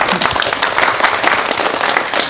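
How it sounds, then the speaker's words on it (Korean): Loud, dense studio audience applause on a Korean morning talk show, a full wash of many hands clapping close and steady for the whole stretch with no speech over it. "박수 한번 보내드릴까요?"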